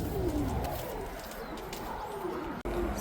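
Racing pigeons coo softly after returning from a 246 km race, low throaty calls repeating under a constant loud hiss of wind or outdoor background noise.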